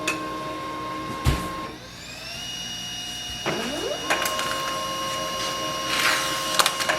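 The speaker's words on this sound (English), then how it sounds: "Now it should be working, the light is gone and it should be printing normally." A Pantum P2500W laser printer runs after its roller is reinstalled, with a sharp click, then steady whirring motor tones and rising mechanical feed sounds close by, punctuated by clacks and brief bursts of paper handling.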